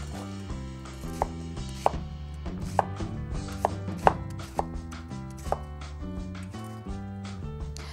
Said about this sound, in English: So we're gonna cut 1½ onion into big chunk